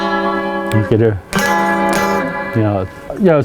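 Electric guitar played through one pickup on its own, with clean sustained chords and notes ringing close and loud in several bursts, and brief speech slipping in between phrases.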